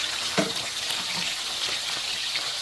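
Pork bones fried in hot oil, giving a continuous close hiss of bubbling fat with a few faint knocks, at a steady level throughout.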